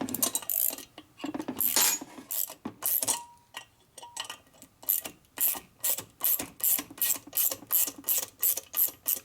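Hand tools work nuts loose on a 1961 Harley-Davidson FL 74ci panhead motor during a rebuild, making close, repeated ratcheting clicks in bursts that become a quick steady rhythm in the second half.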